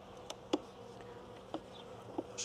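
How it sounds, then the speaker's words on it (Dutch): Honeybees in an opened hive hum with a low, restless buzz, close and soft, broken by a few sharp clicks and taps as frames or hands move among them. "De bijen lopen ietsjes onrustiger,"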